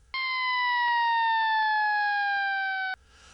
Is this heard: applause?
no